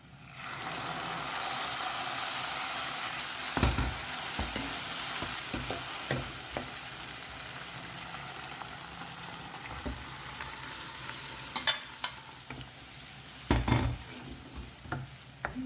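Dal is added to a sizzling tadka and stirred: a steady loud frying sizzle is broken by the scrape and clatter of a spoon against the pot.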